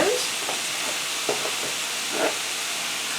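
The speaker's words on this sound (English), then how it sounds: "And we're going to let that brown on both sides." Pork tenderloin browning in a pan, a steady soft sizzle and hiss with a few light scrapes or stirs, no talking.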